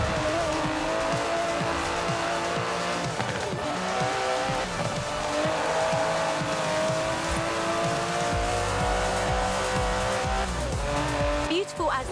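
An Aston Martin DB11 races in Forza Horizon 4, its engine droning and revving steadily throughout with repeated tire squeals and skids, loud and close, with speech over the car.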